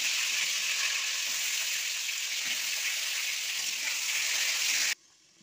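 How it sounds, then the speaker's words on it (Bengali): Pointed gourd (potol) pieces fry in hot oil with a loud, steady sizzle that holds for about five seconds, then cuts off abruptly to near silence. "এখন আমি পটলগুলো প্রথমে ভেজে নেব।"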